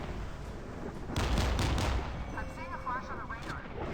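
Bofors Stealth naval cannon in the Modern Warships video game firing a double shot, a cluster of loud booming blasts over steady background noise, followed by fainter trailing whooshes.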